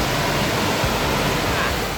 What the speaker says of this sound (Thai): มันก็จะมีน้ำตกที่เขาซอยย่อยลงมามันสวยเกือบทุกชั้นเลย